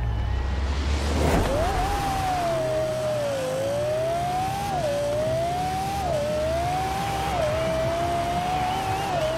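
Lexus RC F in Forza Horizon 4 driving a damp track, its engine note climbing and dropping through repeated upshifts in a steady sawtooth, loud and continuous with no talk over it.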